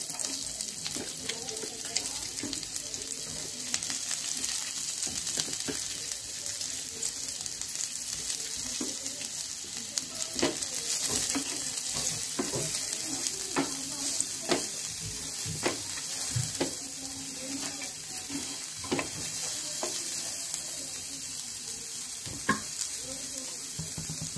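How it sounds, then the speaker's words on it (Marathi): Onion frying in a pan, heard as a continuous bright sizzle with repeated stirring scrapes and taps throughout, close and fairly loud, with no voices. "यामध्येच आता आपल्याला कांदा भाजायचा आहे।"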